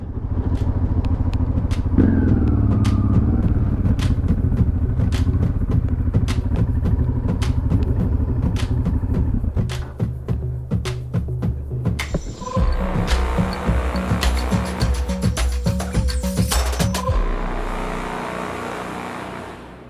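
A 1993 Honda XL600V Transalp PD06 V-twin motorcycle with around 50 horsepower and many modifications idles loudly and close with a steady throb, then gets blipped and revved with sharp rising bursts before settling back.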